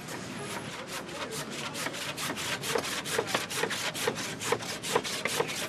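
Hand saw cutting through wood for a work table, steady rhythmic back-and-forth strokes that grow louder and more regular, close by.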